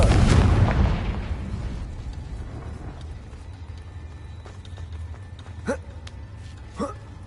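A Confringo fire spell explodes in the wizarding game Hogwarts Legacy: a loud, close blast with a long rumbling decay, followed by a few faint sharp chirps.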